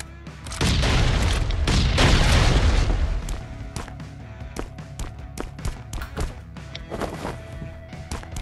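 Bomb blasts at a house in the survival game Last Island of Survival, a heavy booming explosion swelling early, followed by scattered sharp bangs and thuds that fade off gradually.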